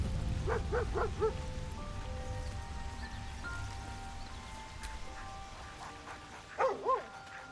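A dog in Baldur's Gate 3 gives a couple of short bark-like yelps, then a second pair near the end, set against steady rain-like game ambience and soft music tones.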